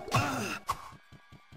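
A monster in Diablo groans in pain: a harsh, strained groan rises and fades, followed by a shorter pained moan, then a few faint low rasping grunts.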